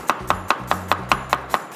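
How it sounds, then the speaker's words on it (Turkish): Chef's knife chopping an onion into julienne strips on a cutting board: about eight quick, evenly spaced cuts in a steady rhythm, close and crisp, with a low background hum and no talk. "Yani jülyen soğan doğradık."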